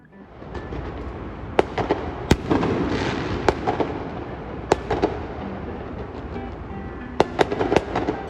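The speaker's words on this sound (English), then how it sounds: "I need to go set some fireworks off" Fireworks set off outdoors, a string of sharp, loud bangs and crackling pops scattered irregularly over a dense, continuous hiss of burning and smaller bursts.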